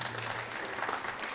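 Steady crowd applause at a Chernihiv League KVN comedy contest after a team's scores are announced, a brief, dense burst of clapping filling the hall at an even level.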